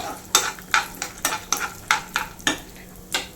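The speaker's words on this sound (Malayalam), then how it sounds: "നല്ലപോലെ ഒന്ന് മിക്സ് ചെയ്ത് കൊടുക്കാം ഇതെല്ലാം നല്ലപോലെ ഒന്ന് ഫ്രൈ ആയി വരണം" Crushed peanuts frying in ghee are stirred in a pan with a spoon, making a run of regular scraping strokes about every half second over a light sizzle, close and clear, with no talking.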